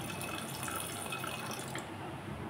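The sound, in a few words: water poured into a pot of lentils and jackfruit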